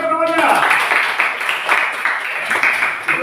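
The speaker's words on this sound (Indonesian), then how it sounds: "Coba tepuk tangan kawannya" Classmates in a classroom clapping for a peer, a steady burst of many hands at close range that carries on throughout, with voices audible over the applause.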